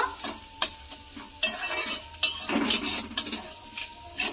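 Cumin seeds and spices with chilli fry in a pan, soft sizzling beneath repeated stirring strokes, with sharp clinks of a spoon against the metal, close and moderately quiet, no voices.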